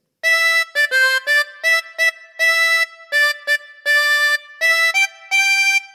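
Opening phrase of "Mary Had a Little Lamb" on a harmonica, blown and drawn on holes 4 to 6: a string of short, clear reedy notes with brief gaps between them, played alone, close and fairly loud.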